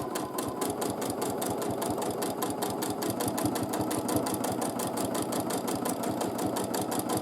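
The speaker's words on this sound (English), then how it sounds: "Quilting the plums from the other side." A sewing machine free-motion quilts feather plumes in one loud, unbroken run up close, its needle driving out a fast, regular thumping rhythm over a steady motor hum.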